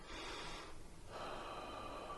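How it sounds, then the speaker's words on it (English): Close, soft breathing during tai chi practice of Grasp the Bird's Tail, with one long exhale, a brief pause, then a steady breath in, heard alone. "And the breathing is going to stabilize you."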